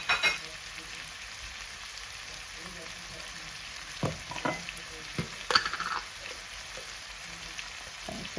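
Food sizzles and hisses steadily as it is stir-fried in a pan, a close, quiet crackle with occasional scraping stirs and knocks of a utensil partway through.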